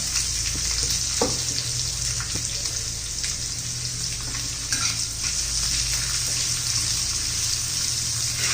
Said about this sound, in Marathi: कांद्याचा कच्चेपणा जाईपर्यंत आपण परतून घेणार आहोत कांदा